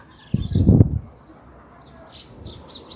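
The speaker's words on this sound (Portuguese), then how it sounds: "Inclusive tem uns passarinhos ali próximo." Small birds chirp faintly in brief bursts in the distance near a town square garden in Umirim, Ceará, Brazil, after a short low rumble of outdoor background noise.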